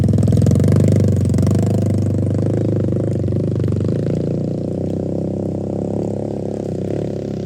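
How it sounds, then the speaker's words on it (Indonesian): Motorcycle engine rumbling on a mountain trekking trail on Gunung Papandayan, a loud close low throbbing that gradually eases as the bike moves along, no voices over it. "mendaki gunung di sampingnya masih ada motor yang lewat"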